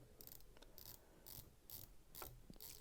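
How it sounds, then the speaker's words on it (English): Dive bezel on a Seiko SKX009J watch turning in a series of quick, faint ratcheting clicks. The clicks come in short bursts at a steady, regular rhythm, close up and alone with no voices. "Really satisfying dive bezel with this particular one."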